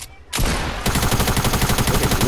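Loud Fortnite gunfire erupts after a short quiet lead-in, continuing as a rapid, evenly spaced rattle of automatic shots close up.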